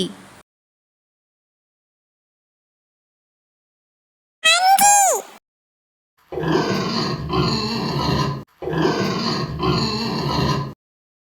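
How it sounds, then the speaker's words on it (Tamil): Pig giving a high squeal, then two long bursts of rough grunting and oinking, loud and close, with silent gaps between them. "பன்றி"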